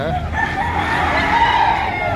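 Roosters at a crowded morning chicken market crow loudly and nearby, one sustained call over a thick background of market chatter and other birds.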